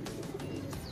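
Soft, low cooing from high-flying pigeons blends into a steady background hum, with a few faint chirps scattered through the second.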